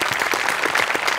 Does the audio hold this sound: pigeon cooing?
no